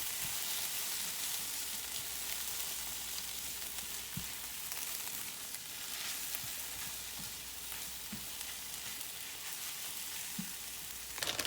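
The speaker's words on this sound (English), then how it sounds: "now that my eggs are pretty much done, I'm going to start adding in my vegetables back in" Eggs and vegetables fry in a pan with a steady, close, hissing sizzle, dotted by a few soft taps of stirring, and no one speaking.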